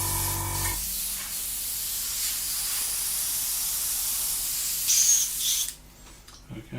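Compressed air blowing out a part of a Trumpeter 1/32 F-14D Tomcat model kit, a sustained close hiss of air that swells briefly, then cuts off, followed by faint handling sounds.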